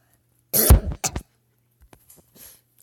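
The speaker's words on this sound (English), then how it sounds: "I coughed a lot" One person coughs twice, close and fairly loud, followed by a few faint throat sounds and breaths in an otherwise quiet room.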